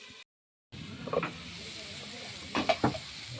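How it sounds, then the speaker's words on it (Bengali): Young jackfruit pieces frying in oil in a pan for a jackfruit dalna: a soft, low sizzle that cuts out briefly, then returns with a few scraping stir sounds near the end. "আলুটা ভেজে তুলে নেওয়ার পর এঁচোড়টাও আমি এখানে একটু ভেজে নিচ্ছি।"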